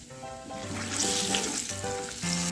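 Mustard seeds, cumin, turmeric and red chilli powder hitting hot oil with garlic for a quick tur dal, giving a soft, steady sizzle and crackle with faint clinks, no talking.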